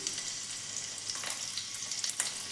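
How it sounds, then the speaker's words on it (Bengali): Chopped garlic frying in hot oil in a kadai for dal paratha, a faint, steady sizzle with small crackling pops scattered throughout. "এবারে কড়াতে যে তেলটা গরম হয়েছে এর ভেতরে আমি রসুন কুচিগুলো দিয়ে দিচ্ছি"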